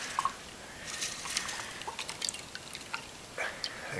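Liquid chitosan solution is poured into a Christmas tree stand, with faint, sparse dripping and light trickling splashes scattered through the stretch and no talk.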